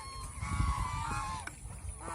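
A farm goose gives a drawn-out nasal honk, close by and moderately loud, over low rumbling background noise.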